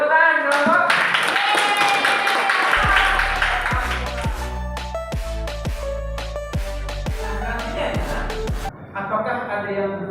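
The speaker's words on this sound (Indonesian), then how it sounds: "Bagus, tepukan, kelompok." A class group in a classroom claps in a short burst of sharp, evenly spaced claps heard under and alongside talking and background music.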